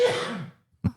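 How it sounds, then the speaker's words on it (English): A single loud, forceful sneeze bursts out close to the microphone and trails off, followed after a brief silence by two short breathy sounds. "when he finishes sneezing"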